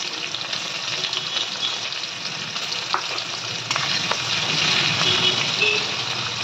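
Onions and tempering spices sizzle and fry steadily in hot oil in a pan for a Bengali dish, a continuous close crackling hiss that swells slightly louder toward the end, with occasional stirring clinks.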